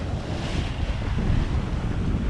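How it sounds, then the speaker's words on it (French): Wind of about 15 knots blowing over a sailboat at sea off the Spanish coast, a loud steady roar with rumbling microphone buffeting and wave wash, no voices. "Enfin un peu d'air, enfin du vent, 15 nœuds de vent."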